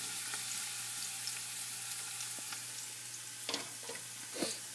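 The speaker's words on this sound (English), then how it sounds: "Saute it nicely for 2 minutes." Chopped onion and shallots sauté in hot oil with curry leaves for a bitter gourd subji, a steady broadband sizzle with occasional scrapes of stirring toward the end; no talking.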